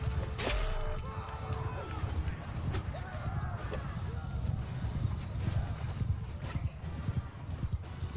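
Horses gallop in Mount & Blade Bannerlord, with a continuous dense drumming of hooves and occasional whinnies over a busy battlefield din, while someone talks over it.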